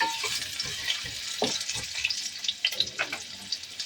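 Cut, washed potatoes tossed into hot oil in a pan with spices, giving a bright crackling sizzle with scattered pops and stirring scrapes, close and moderately loud.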